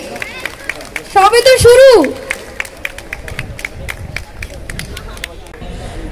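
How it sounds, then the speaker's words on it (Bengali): Scattered, sparse handclaps from a small audience at the Green Friends meet-up 2024 gathering, sounding as light separate claps over a low hubbub, with a brief rising and falling whistle-like tone and a voice speaking. "সবাই একটু করতালি তো দিন"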